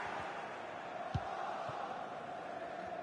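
Arsenal fans in a FIFA 21 match roar as a steady, distant crowd wash, with a brief thump standing out above the constant stadium noise.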